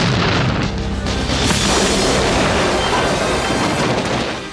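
Heavy booming explosions roll together into a dense, continuous roar, loud and close, with crackling debris noise throughout, as the Batmobile charges through a chemical works in Batman (1989).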